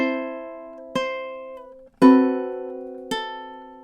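Ukulele notes from a measure of a song: four clear plucked strums in steady time, each ringing out and decaying before the next, played alone and close.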